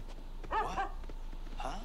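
A dog from the 1989 animated film The Little Mermaid gives a few short barks and yips amid quiet background sound, the calls separated by brief pauses.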